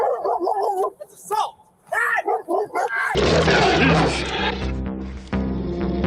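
An off-leash dog barks in a tense confrontation, several loud barks up close, then a harsh burst of noisy commotion with a voice speaking.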